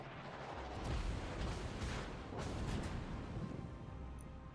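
Heavy naval guns of a Des Moines cruiser boom in a few muffled, distant-sounding salvos over a low rumbling background during a World of Warships battle.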